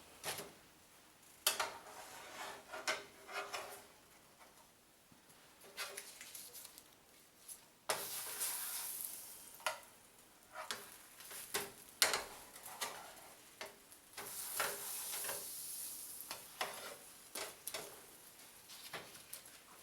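Bread frying in butter in a pan, a soft sizzle with intermittent clinks and scrapes of a utensil turning and stirring, heard close and fairly quiet throughout.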